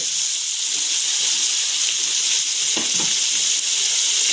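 Spices sizzle and fry steadily in hot oil in a pan for seeraga samba biryani, a continuous close hiss with a few brief stirring scrapes near the end.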